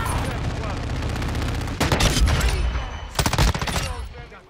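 A full-auto Desert Eagle is hip-fired in Modern Warfare 2, two loud rapid bursts of gunfire with rattling, closely spaced shots over ongoing game noise, and a voice talking in between.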